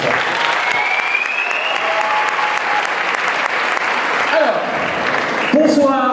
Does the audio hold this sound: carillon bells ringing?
no